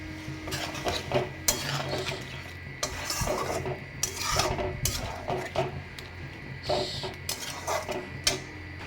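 A spoon scrapes and stirs a pot of food with prawns and green chillies after a little water is added, irregular close metallic rubs and clinks with no voices.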